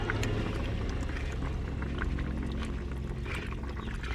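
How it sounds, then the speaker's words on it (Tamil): A pot of okra kara kulambu, a spicy tamarind curry, bubbles and simmers in a continuous, soft, close gurgle. "நல்லா கொதிக்குது குழம்பு பாருங்கள்"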